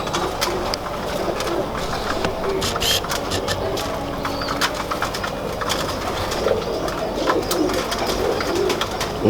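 Pigeons cooing in a loft amid background bustle, with soft repeated coos under a constant hum and scattered clicks and rustles, fairly close and continuous.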